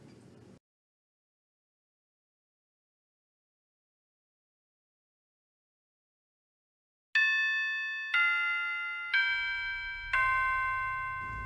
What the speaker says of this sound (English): That's right, even at this time, the school bell still rings.